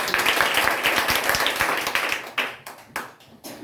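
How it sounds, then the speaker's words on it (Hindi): A small group claps hands, a short burst of dense applause that thins into a few scattered claps near the end. "ताली लगाओ इसके लिए"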